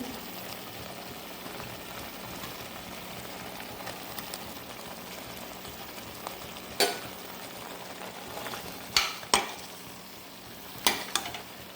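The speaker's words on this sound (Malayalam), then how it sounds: "നമുക്ക് ഇനി ഇതിലേക്ക് നെയ്യ് മത്സ്യം ഇട്ട് കൊടുക്കുന്നുണ്ട്" Fish fries in a pan for a toddy-shop-style chempalli curry, a quiet steady sizzle with a few sharp clinks and scrapes toward the end, no talk.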